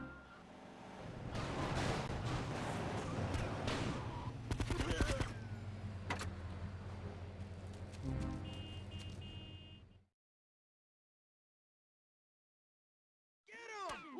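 Gunfire in GTA Vice City Stories: bursts of rapid automatic shots and single cracks amid game noise and shouting voices, fairly loud and dense, then abrupt silence before a brief closing sound.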